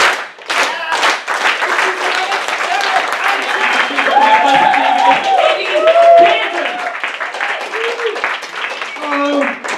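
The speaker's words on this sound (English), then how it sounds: "So we're going to do little clap. Big clap, big clap." A stand-up comedy audience claps on a compère's cue, a crowd of hands applauding continuously for several seconds with voices and some cheering mixed in over it.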